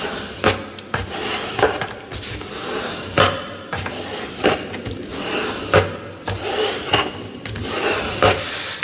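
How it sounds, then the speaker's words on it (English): A scraper pushed across glued paper in a handmade fairy junk journal, making repeated dry rubbing and scraping strokes, close and fairly loud, with short sharp bursts in between. "take your scraper, and run it across"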